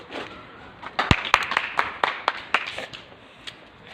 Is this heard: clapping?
yes